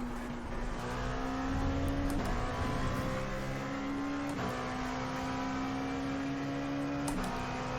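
An LMP2 prototype race car engine in iRacing at the Red Bull Ring drones steadily and loudly throughout, with the pitch shifting at a few gear changes and no talking.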